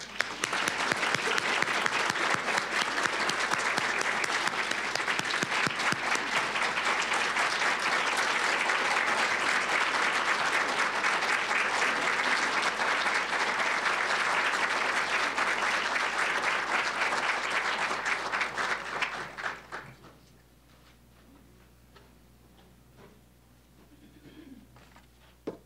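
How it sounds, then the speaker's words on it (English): An audience at a women's honors ceremony gives supporters a sustained round of applause, loud and even for about twenty seconds before it stops abruptly, leaving a quiet room with faint scattered sounds. "let's give them all a round of applause"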